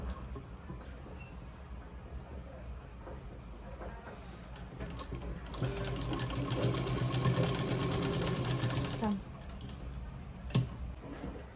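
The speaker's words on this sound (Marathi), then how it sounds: "तर अशा पद्धतीने मी दाब शिलाई देत आहे" A sewing machine runs at a steady whir with fast rhythmic needle ticking as it press-stitches the lining of an umbrella dress, quieter and sparse at first, then a sustained louder run before stopping.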